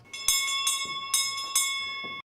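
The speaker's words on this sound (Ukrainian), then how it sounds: "З дзвоником в руках учень третього класу подумки переносить час назад." A small school hand bell rings in quick repeated shakes, about four bright metallic jangles close by, then stops abruptly.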